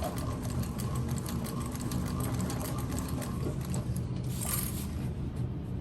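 A TechSew 4800 Pro sewing machine stitching at a steady, fast, even hum with a continuous mechanical chatter, fairly quiet and close, with no talking.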